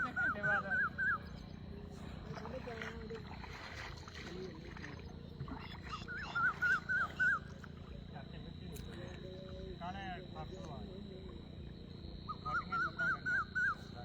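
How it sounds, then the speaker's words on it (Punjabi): Evening birdsong including egrets at farmland during an irrigation turn: repeated bright chirping phrases recur at the start, middle and end against a constant outdoor hum. "ਪੰਛੀ ਸੁਣਦੇ ਹੋਣੇ ਤੁਹਾਨੂੰ ਬੋਲਦੇ ਜੀ ਆਵਾਜ਼ਾਂ ਪੂਰੀਆਂ ਪਿਆਰੀਆਂ"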